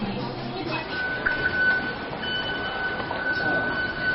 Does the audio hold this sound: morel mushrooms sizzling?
no